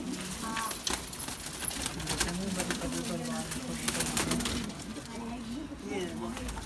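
Large Gola pigeons coo repeatedly in a series of low, rolling calls, with people talking nearby and light handling noises.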